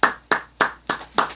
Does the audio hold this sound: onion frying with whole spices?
no